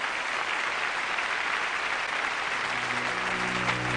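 Sustained applause in honor of Stalin, a dense, steady wash of clapping from a large crowd that holds an even level throughout with no pause, while a faint low tone rises beneath it toward the end.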